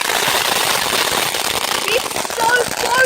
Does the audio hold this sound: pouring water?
no